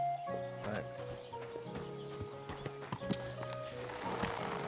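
Horse hooves clip-clopping with a brief whinny in the medieval game Kingdom Come Deliverance, steady hoofbeats over ambient music tones, moderately close.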